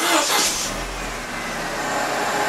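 A 2000 Mercedes SLK 200 Kompressor engine revs up nearby with a steady, throaty roar that holds for a couple of seconds, heard alone with no talking over it.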